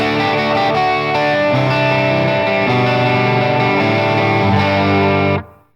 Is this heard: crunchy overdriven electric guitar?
yes